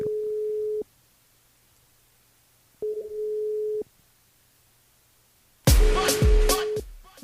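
Telephone ringback tones during a call, two long steady beeps about two seconds apart, then a loud burst of talk and clatter on the line as someone answers.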